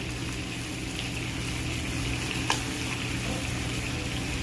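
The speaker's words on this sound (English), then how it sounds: "Then we're going to add our sliced pork belly into the pan to basically reheat" Sliced pork belly sears in a hot pan with cooking liquid in an Okinawan dish, giving a loud, continuous close-up sizzle and crackle with one brief clink partway through.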